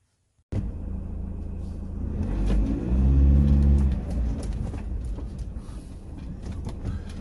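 A motorhome drives along road 79 near Kittilä in Finnish Lapland, its engine starting up abruptly and then rumbling steadily with a swelling roar in the middle, close and continuous with no one talking.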